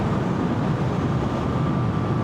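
A Moto Guzzi V7 Special MK IV motorcycle engine runs steadily after shifting into fifth gear, a continuous loud drone at around 4,000 revs and roughly 60 mph, with wind rush mixed in and no pause or change over the stretch.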